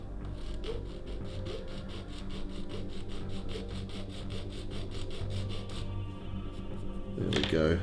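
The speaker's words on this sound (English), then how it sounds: "I think the sanding, I'm affecting too much of the area around." Plastic turret parts for a Kongo battleship scale model are sanded by hand, a rapid continuous rhythmic rasp of strokes close up, with a brief clatter at the end.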